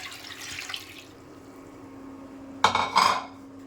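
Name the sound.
water being poured into a cooking pot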